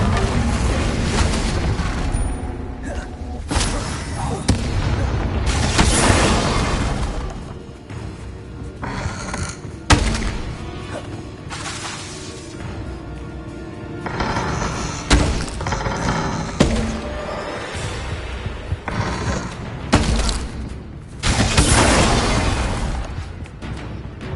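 Bombarda and Confringo spells erupting in a Harry Potter video game, a run of heavy booming thuds and crashing blasts repeating across the stretch, loud and dense with rumbling low end between the impacts.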